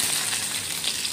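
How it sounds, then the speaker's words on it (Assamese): Pointed gourd and potato pieces fry in hot oil with a steady, dense sizzle that stays loud and close throughout. "পটল আৰু আলুবোৰ এইদৰে ভাজি ল'ব অলপ ৰঙচুৱাকৈ,"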